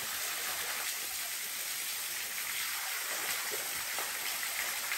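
Saeng Chan waterfall in Pha Taem National Park, Thailand, pours steadily as a continuous broadband rush of falling water, even and moderately close, with no voices.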